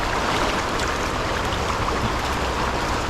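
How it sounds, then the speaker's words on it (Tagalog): Strong river current rushing past, a steady dense wash of water noise that stays loud and unbroken throughout with no voices. "Lakas kasi dito ng agos"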